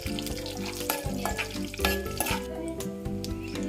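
Cumin, chana dal and dried red chillies sizzle in oil as a spoon stirs them, a soft close crackle with occasional scraping and clinks against the pan, quiet and without talking.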